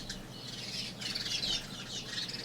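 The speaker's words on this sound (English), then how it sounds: "Oh my god, the birds." Birds chirp outdoors in a loud, busy chorus of high tweets, with one burst rising strongly partway through over a steady background hiss and no speech.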